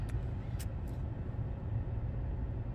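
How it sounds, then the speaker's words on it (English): A car drives along a wet, snowy road in winter, with the snow starting to melt. A steady, low engine and road rumble continues throughout, heard from inside the car with no talk. "It's really hard for me driving."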